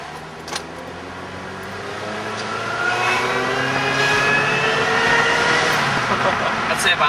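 A supercharged 2.2-litre Chevrolet Cobalt accelerates under boost, its engine note rising steadily in pitch and loudness from inside the cabin over several seconds, with a brief rattle near the start.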